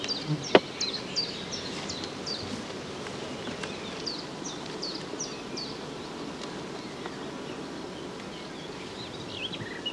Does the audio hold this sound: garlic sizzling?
no